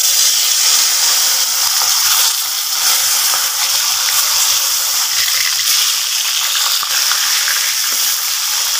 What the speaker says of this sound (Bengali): দেখো মাছ ভাজা হতে হতে